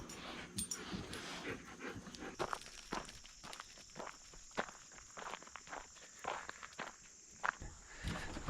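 Several dogs walk and pant close by outdoors, with soft scattered footfalls and quick breathy panting in an uneven stream, quiet overall and with no talk.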